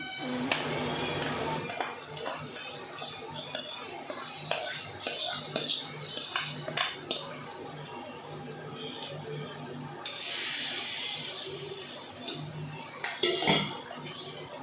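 A metal spoon clinks and scrapes against a pot while a hot tempering of oil, garlic and curry leaves is stirred into sambar in a home kitchen, with intermittent taps and a brief burst of sizzling near the end.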